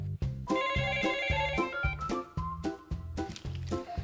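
Electronic telephone ringtone at a traditional market's home-delivery call center, a loud repeating melodic trill in steady pulses heard alone and up close.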